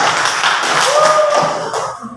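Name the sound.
applause for group 2 after a class presentation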